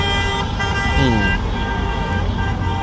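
Car horns blare in heavy street traffic, a sustained loud honking tone layered with other horns and road noise.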